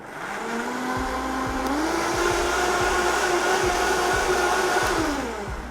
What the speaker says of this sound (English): we're going to blend this bad boy up, which will blend very, very easily